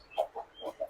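A one-year-old rooster, about four kilos, gives a few short, soft clucks in quick succession, close and fairly quiet, with no talking.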